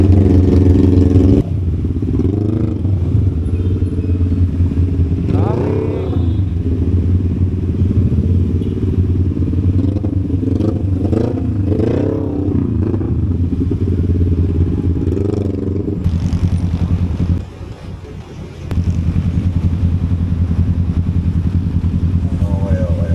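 Motorcycle engine running steadily during a ride on the way to a racing shop, with revving swells and clatter, loud and close throughout, briefly dropping near the end.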